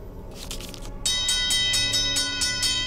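A bell rings in the game Surface: Lautlos, a bright metallic tone struck several times in an even rhythm, following a softer lead-in, with no talking.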